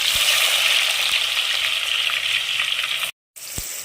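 Garlic and onion fry in about 250 ml of oil in a kadai, producing a loud, close, continuous sizzle that breaks off briefly near the end before resuming.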